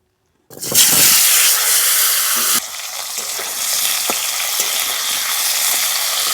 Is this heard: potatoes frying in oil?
yes